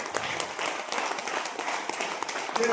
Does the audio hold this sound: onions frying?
no